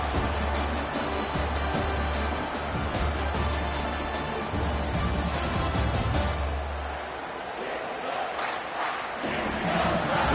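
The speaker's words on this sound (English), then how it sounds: "Listen to this crowd just shaking the girders of this place, trying to help their defense." In a Florida vs LSU college football video game, a stadium crowd roars in a sustained, dense wall of cheering over a low rumble, thinning toward the end as commentary-like speech comes through.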